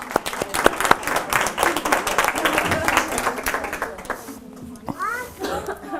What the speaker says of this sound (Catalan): A veure si mereix un aplaudiment, aquest modelo.